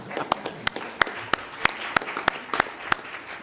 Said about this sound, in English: I thought I might get some applause out of a graduation like that.